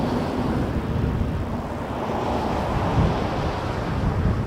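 A Boeing 737-800 in Swoop livery passing at Toronto Pearson Airport, heard as a continuous broad jet roar with a low rumble that swells slightly and then holds, with no talking.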